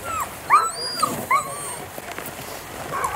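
Sled huskies whimper and yip at the start of a long-distance Lapland race, with several high, rising whines and short yelps close by, separated by brief pauses over a steady outdoor background.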